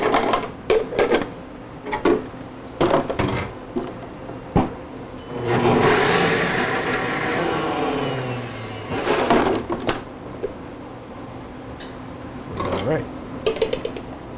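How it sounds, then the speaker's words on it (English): A blender whirs for a few seconds while mixing a red velvet frappe, bracketed by clattering cups, lids and counter knocks in a busy coffee shop, with a voice talking over parts of it. "and the frappe gets tossed in the blender."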